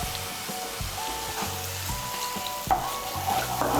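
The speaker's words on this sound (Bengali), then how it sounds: "এখন আমি মশলাটাকে ভালো করে কষিয়ে নেব" Spice paste with cumin powder and a splash of water sizzles in a pan while a spoon scrapes and stirs it in repeated strokes, close and moderately loud, with no talk.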